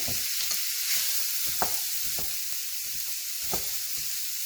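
Ground beef browning in a pan with soy sauce, garlic powder and black pepper, a steady bright sizzle with a few soft pops and scrapes, close and continuous with no talk.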